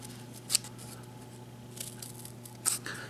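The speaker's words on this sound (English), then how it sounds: "I take my scissors, and I'm just gonna cut up to that line" Scissors cut through layers of glued paper while a rocket is being made. Two short, crisp snips about two seconds apart rise from a quiet room with a faint hum.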